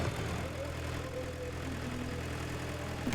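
New Holland diesel tractor at a tractor pulling event, its engine droning as a steady, muffled mid-low rumble heard from a distance, fairly faint and unbroken throughout with no voices.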